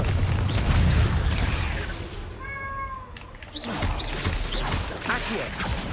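A Confringo fire spell bursts in Hogwarts Legacy, a brief whooshing impact amid a busy game soundscape, with a rising tonal chime and a dull boom rumbling underneath.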